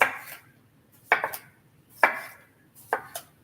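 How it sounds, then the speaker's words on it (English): Knife chopping cucumber on a cutting board while making a shrimp roll salad lunch, four separate cutting bursts at roughly one-second intervals, close and clear with no talking. "Now I'm going to go ahead and cut up the cucumber as well."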